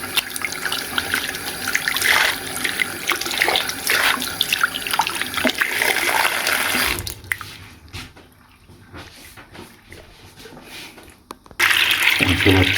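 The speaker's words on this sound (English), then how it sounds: "And fill up some water." Tap water runs steadily into a sink for washing 1990s mermaid dolls, loud and close, then cuts to a quieter stretch before the flow resumes strongly near the end; faint talk is mixed in.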